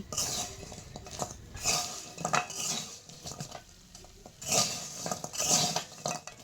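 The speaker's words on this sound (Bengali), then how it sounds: "চিনির শিরার সাথে গজাগুলোকে খুব ভালো করে নেড়ে চেড়ে মিশিয়ে নেব" Fried angul goja are stirred through thick sugar syrup with a metal utensil, giving repeated scraping and clinking bursts against the pan in an irregular rhythm, close and fairly loud.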